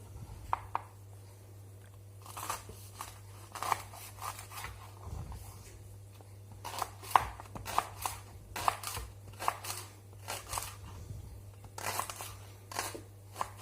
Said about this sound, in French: là je vais émincer les poireaux